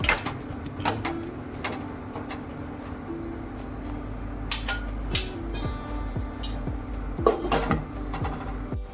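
A lid set onto a pot of cooking field bean sprout and potato vegetable dish, with clattering metal knocks and scrapes of cookware, close and fairly loud, several clinks spread over a few seconds without speech.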